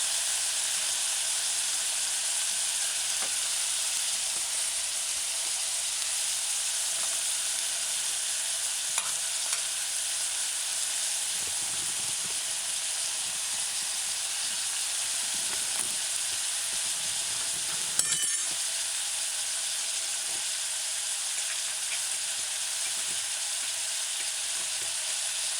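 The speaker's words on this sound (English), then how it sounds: "add the garlic to the heating oil and allow it to saute." Garlic sautés in heating oil alongside chickpeas for a chickpea, mushroom and pepper stew, giving a steady, even sizzle throughout with occasional stirring scrapes and one brief clatter partway through, no voices.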